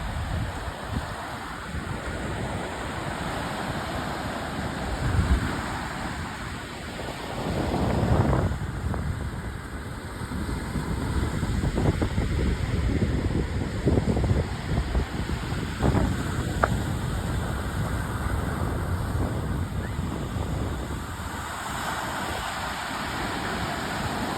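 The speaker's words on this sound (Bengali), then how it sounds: "সমুদ্রের গর্জন শুনতে কি ভালো লাগে" Sea waves roll in at the beach in Calais, France, a continuous roaring surf heavily mixed with wind buffeting the microphone, swelling and easing over time.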